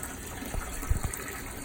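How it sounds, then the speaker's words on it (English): Water from a hose gushes into an aquarium being filled, a steady rushing and splashing stream close by with small bubbling bursts. "Now in the current process of filling it."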